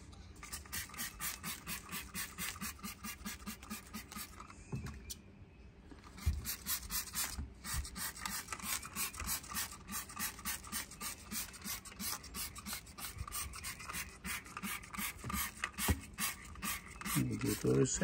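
Car wheel being scrubbed with Super Clean cleaner, a continuous rhythmic brushing and rubbing close up, steady throughout with a brief dip in the middle.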